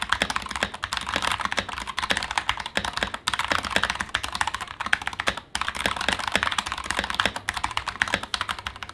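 Rapid, steady typing on a computer keyboard, crisp clicking keystrokes close up with brief pauses and no voices.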